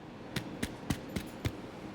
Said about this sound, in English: Your bread should sound like this when tapped.